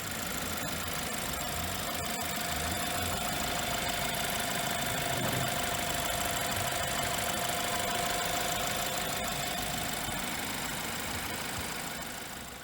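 A BMW 320i Touring xDrive with a TwinPower Turbo petrol engine rated at 180 horsepower idles steadily, a smooth, continuous mechanical hum heard up close with no voices.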